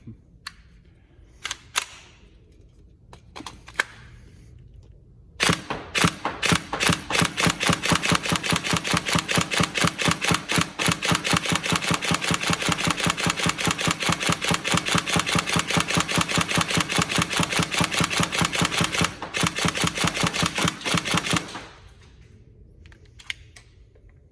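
Tokyo Marui MP5 SD6 next-generation recoil airsoft gun with an upgraded FPS fires a long sustained full-auto burst of rapid, evenly spaced mechanical clacks, close and loud, preceded by a few single shots and followed by quiet handling noise.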